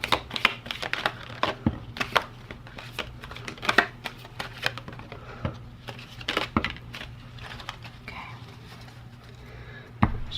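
Oracle cards shuffled overhand, a series of quick papery slaps and riffles in irregular bursts, close and moderately quiet, with no talking.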